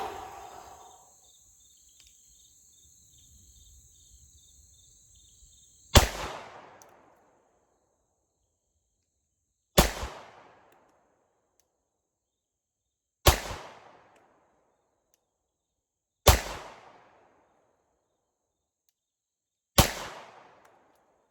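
Five sharp pistol shots from a Shadow Systems MR920 firing Blazer brass ammunition, spaced several seconds apart, each a loud crack with a short echoing tail, after a quiet stretch with faint insect chirping outdoors.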